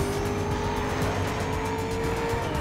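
A race car in Need for Speed: Most Wanted roars past with steady engine whine and faint tire noise, continuous and close, with no talking.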